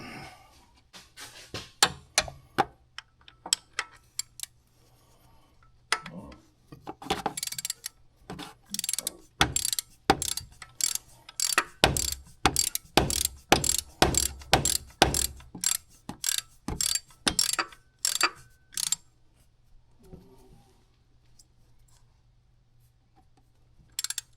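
Ratchet wrench tightening the belt tensioner bolt on a Honda K24 2.4L engine, a long run of quick, close mechanical clicks in bursts, speeding up and pausing, with no talk.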